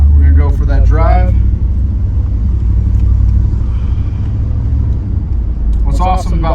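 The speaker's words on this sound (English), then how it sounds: "Let's go ahead and take this thing for a drive." A 1985 Chevrolet Camaro IROC-Z rumbles steadily from inside the cabin with a deep, loud low-end drone, while someone talks over it at the start and again near the end.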